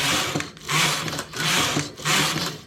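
A knitting machine carriage is pushed back and forth in steady rhythmic passes while decreasing stitches on a knitted trouser leg, with a whirring, clattering texture and brief pauses between strokes, close and moderately loud.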